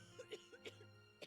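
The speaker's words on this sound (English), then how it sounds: "Becca starts coughing heavily. Her hand hastily goes to her mouth to stifle" A female character in the video game The Letter coughs heavily in a short run of sharp, close bursts, with a few spaced coughs and a final one at the end.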